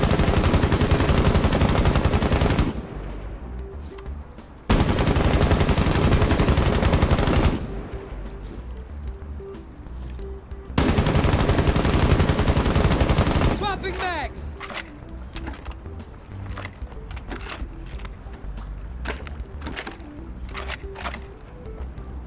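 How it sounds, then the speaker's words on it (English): Fuze's LMG in the video game Rainbow Six Siege firing in three long, loud sustained automatic bursts with brief pauses between them, followed by quieter reload and handling sounds. "Here's a quick clip of the LMG firing with all recoil reduction attachments excluding the laser sight."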